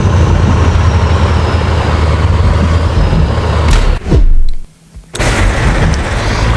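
A car drives in the mobile game Car Parking with a loud, steady low engine rumble that abruptly cuts out near the end, marked by a thump or impact before the rumble resumes, with no talking.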